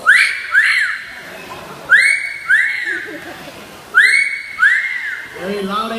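A parrot at a bird show in a Singapore bird park imitates human whistling with loud, clear paired rising-and-falling wolf-whistle calls, repeated three times, with a person speaking faintly at the end.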